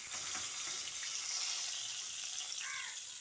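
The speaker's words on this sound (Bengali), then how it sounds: "এবার পটলটাকে নেড়ে চেড়ে হালকা করে ভেজে নেব" Pointed gourd (parwal) pieces frying lightly in hot oil in a pan, a continuous crackling sizzle heard close and alone, with faint stirring as they are turned.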